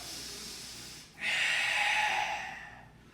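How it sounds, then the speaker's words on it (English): A forceful, drawn-out exhale during a breathing drill for golf posture, a close, airy hiss that follows a short intake and fades over about two seconds. "Think about breathing out like you're fogging a mirror, trying to get as much air out of the ribs down to the pelvis to get compression."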